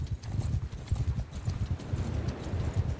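Horse hooves clip-clop in a steady galloping rhythm while riding in the video game Mount & Blade II: Bannerlord, close and loud, with no talking.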